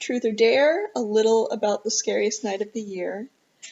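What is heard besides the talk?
No everyday noises stand out.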